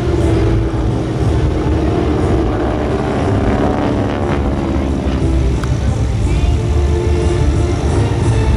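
GEICO Skytypers SNJ-2 warbirds flying in diamond formation at a Sun 'n Fun airshow, a loud continuous radial-engine propeller drone that holds steady throughout with slight wavering as the planes pass.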